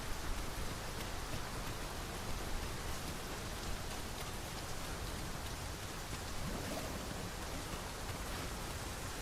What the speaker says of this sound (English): I'm wondering if there's a special significance to why this area is raining so much